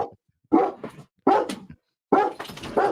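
A dog barks outside in three separate bursts of two or three barks each, fairly loud and close, with short silent gaps between the bursts and no talk over it.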